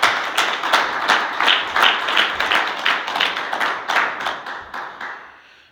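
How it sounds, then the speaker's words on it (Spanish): A church congregation claps loudly in a strong, roughly rhythmic unison beat, near and full, sustaining for several seconds before fading out at the end. "Denle un fuerte aplauso al Señor."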